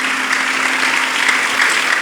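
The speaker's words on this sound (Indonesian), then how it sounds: "Tepuk tangan dulu untuk para santri Al-Iqra." An audience at an Islamic boarding school gathering applauds the students with steady, dense clapping. The applause stays at an even, fairly loud level throughout, with no break and no clear speech.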